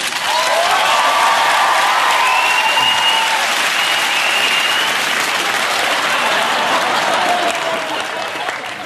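Loud, sustained audience applause with some cheering from a studio crowd at a comedy panel show, dense and even throughout and easing slightly at the end.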